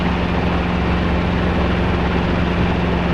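Robinson R22 helicopter in flight, its engine and rotor giving a loud, steady, unbroken drone with a low hum, close and constant throughout with no talk.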